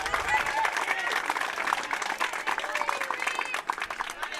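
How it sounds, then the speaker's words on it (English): A boisterous crowd of softball fans from both teams claps and cheers at a WIAA high school sectional semifinal, a steady patter of applause heard beneath a commentator's voice. "we've got a good boisterous crowd"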